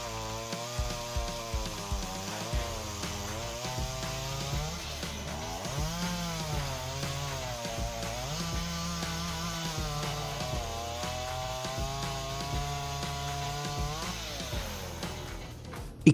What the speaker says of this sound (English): It cuts huge blocks of wood, demonstrating its dominance in the chainsaw industry.